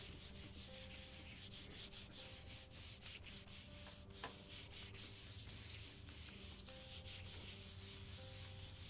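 Steady rubbing over paper laid on a gel print plate, a continuous dry scratchy friction that runs close and fairly loud throughout, with no talk.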